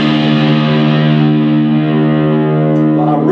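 Fender American Standard Telecaster through an amp's drive channel with gain at 4, a sustained distorted chord ringing loud and steady for about three seconds before a new strum.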